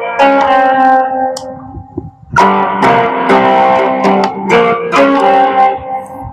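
Distorted electric guitar, a Super Strat with passive onboard distortion and quad rail pickups, plays a run of notes and chords, gritty and sustained, with short pauses between phrases.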